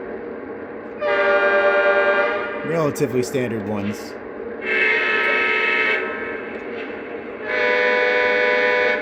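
An ES44 locomotive horn sounds in three loud sustained blasts with short gaps between them, and someone talks briefly between the first and second blasts.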